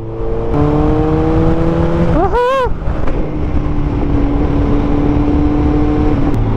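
Kawasaki ZX14R 1441cc motorcycle engine droning steadily while riding, with a brief rising rev around mid-clip amid constant wind rush.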